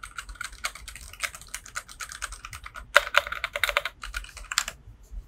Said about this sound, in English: I really like the typing sound of keyboard